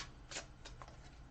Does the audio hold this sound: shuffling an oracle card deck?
yes